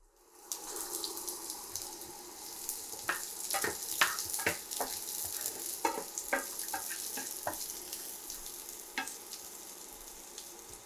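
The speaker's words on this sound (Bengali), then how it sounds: "ফ্রাই প্যানে কিছুটা তেল দিলাম, পেঁয়াজ দিয়ে দিচ্ছি এখানে 2টা পেঁয়াজ" Two onions frying in oil in a frying pan, a steady hiss of sizzle broken by many sharp crackles and pops throughout, close and fairly loud with no talking.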